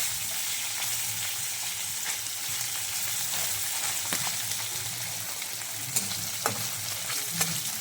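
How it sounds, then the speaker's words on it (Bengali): Small mourala fish frying in hot oil, a steady dense close-up sizzle with occasional stir clicks and light taps near the end, and no one speaking. "আমার তেলটা গরম হয়ে গেছে এবার মাছটা দিয়ে দেবো আমি একবারে দেবো না দুবারে ভেজে নেব"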